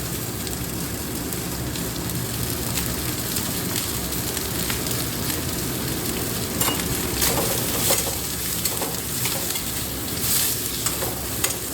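Two medium onions frying in about a tablespoon of oil for a Bengali katla fish curry, a dense, continuous close sizzle with scattered scraping stir strokes throughout.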